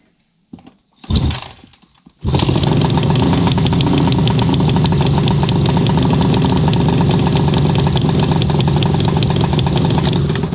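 A couple of soft knocks and a brief start-up, then a cold 1976 Suzuki GT750 motorcycle engine settles into a loud, steady, rumbling idle up close.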